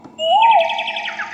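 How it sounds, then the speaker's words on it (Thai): A bird sound effect played on an electronic keyboard: a rising whistle leads into a rapid, warbling, chirping trill, loud and close. "เสียงนก"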